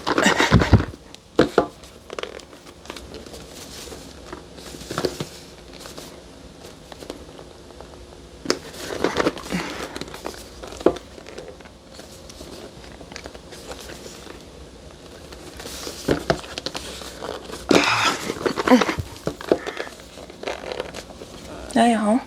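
Unboxing an Insta360 Flow smartphone stabilizer: close crinkling, tearing and rustling of packaging in irregular bursts, with a few sharp louder handling noises, a voice speaking briefly between them.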